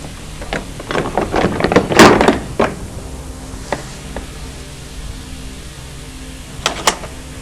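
A door is shut hurriedly inside a house, giving a quick cluster of close wooden knocks and a heavy thunk, followed by a few fainter clicks a moment later.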